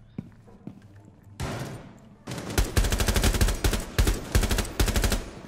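Rapid bursts of gunfire from the video game Rainbow Six Siege, starting with a few isolated shots and building into a loud, sustained volley of repeated blasts, with a faint voice early on.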